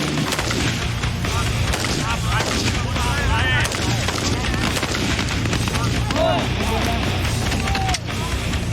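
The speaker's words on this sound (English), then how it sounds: "The live firing exercise was a success" Gunfire at a military live firing exercise during special forces marine training: dense, loud bursts of rapid shots and sharp cracks that continue throughout, with voices mixed in.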